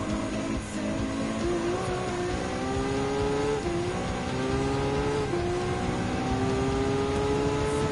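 An Aston Martin and a Mercedes AMG race car in Gran Turismo 7 rev and whine steadily, engine pitch climbing and dropping with gear changes, loud and continuous with no voices.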